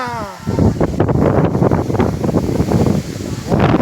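Strong storm wind buffets the microphone in a loud, continuous gusty rush for nearly four seconds, rising and falling unevenly, with a brief voice at the very start.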